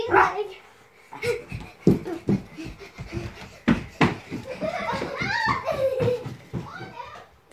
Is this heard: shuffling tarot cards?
no